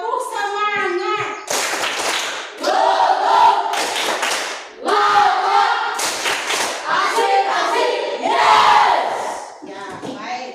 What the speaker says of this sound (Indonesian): Tepuk semangat ya. Tepuk semangat.